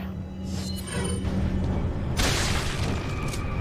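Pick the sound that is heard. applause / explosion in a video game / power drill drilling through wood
explosion in a video game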